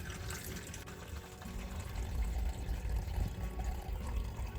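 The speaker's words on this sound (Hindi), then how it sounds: "और बहुत ही हल्के हल्के हाथों से ही हमें ये पानी हटाना है" Soaking water is gently poured out of a vessel while making kurwadi, a soft, continuous trickling and splashing with faint low rumble, fairly quiet and without talk.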